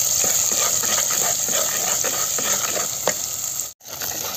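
Ground masala hits hot oil in a pan for a village-style desi chicken curry, giving a loud, continuous sizzle with scraping stir strokes. A brief break in the sizzle comes near the end.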